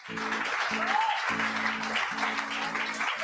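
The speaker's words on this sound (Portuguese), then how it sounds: "Aplaudam Ele." A church congregation applauds, a dense wash of clapping under a low rhythmic musical drone, steady and sustained throughout.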